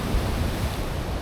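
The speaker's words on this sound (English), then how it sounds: "the waves are like something out of Hawaii 5-0 that I used to watch when I was a kid" Ocean waves breaking on a beach at high tide in Puerto Vallarta, Mexico, a steady loud rushing wash of surf with wind noise and no voices.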